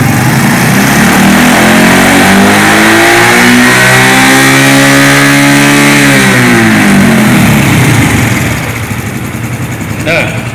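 Motorcycle engine revved to full throttle during an instrument and warning system practical, with a loud, sustained rev whose pitch climbs, holds and falls back before settling toward idle.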